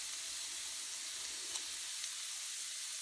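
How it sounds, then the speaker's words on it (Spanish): Carrots and two garlic cloves frying in olive oil in a pan, a faint even hiss of sizzling with a couple of small ticks; no voices. "en el sartén voy a agregar aceite de oliva y la zanahoria"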